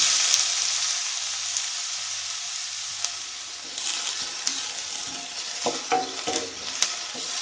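Onion fries in a spoonful or two of hot oil in a pan on a gas stove for Goan mutton sukka, a constant hissing sizzle with a few stirring clatters near the end.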